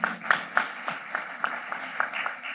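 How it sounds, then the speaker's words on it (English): Audience applause in a hall at a business conference panel on customer experience, a steady patter of many hands with a few sharper claps standing out, moderately distant and continuous. "Keep the applause coming, guys."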